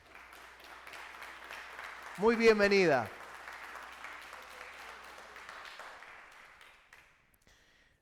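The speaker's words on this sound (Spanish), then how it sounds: "Un fuerte aplauso a ella." A church congregation gives steady, moderate applause to welcome a visiting woman. The clapping runs for several seconds, and someone speaks a brief greeting over it partway through before the applause fades out.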